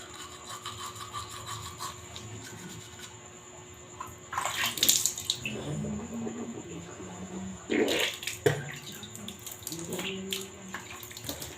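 Water runs from a tap to fill cats' drinking water, a steady splashing flow that swells in two louder surges, close by and mostly alone with little else audible.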